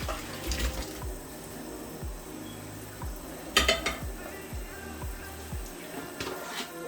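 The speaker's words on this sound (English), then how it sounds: "So we're going to pour it into the strainer." Potatoes and water poured from a pot into a strainer for homemade mashed potatoes, giving a close, steady rush of splashing water with a few knocks and clatters of the pan and metal.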